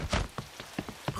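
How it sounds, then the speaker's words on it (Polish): Cartoon rain in a Peppa Pig episode falls softly, with faint, regularly spaced patters and splashes that sound quiet and fairly close, and no voices over them. "Deszcz jest za duży, żeby się teraz bawić."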